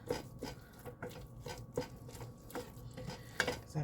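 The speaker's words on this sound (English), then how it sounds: "I keep stirring because I don't want to" Turkey and red bean chili with green tomatoes being stirred in a pan, a soft, quiet scraping and clinking of a utensil against the pan repeating in an uneven rhythm.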